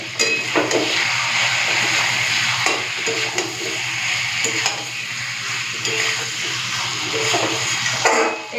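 Chicken curry with potatoes sizzles and bubbles in a pot, with steady frying hiss and occasional stirring and scraping sounds, close up and continuous.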